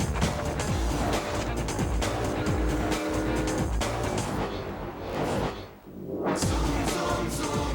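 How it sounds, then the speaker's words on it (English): A 220-horsepower Mazda 6 drives hard in a TV advert: a loud, continuous engine roar with passing rushes and possible tire squeal, briefly dipping near the end before surging back. "Introducing the all-new 220 horsepower Mazda 6."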